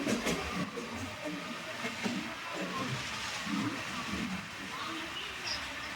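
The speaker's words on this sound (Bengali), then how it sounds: "কারজাট থেকে আমাদের ট্রেন আস্তে আস্তে এগিয়ে যাবে" A train rolls slowly out of Karjat toward Kalyan, a rumbling, rhythmic rattle of wheels and carriages that stays fairly loud and continuous with no speech.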